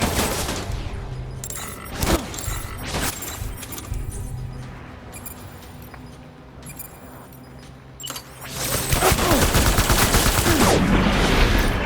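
Gunfire rattles through a boss fight in the video game Death Stranding, with bursts of rapid shots and loud bangs over a busy background of game effects, heaviest near the end.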